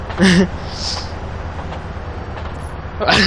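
A train in the video game GTA San Andreas multiplayer (SA-MP) gives a steady low rumble throughout, with brief voice-like sounds at the start and end.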